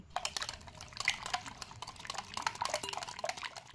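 Baking powder stirred into a thin rice-cake batter in a bowl, heard as faint, irregular wet clicks and soft liquid slaps from a spoon, close and quiet.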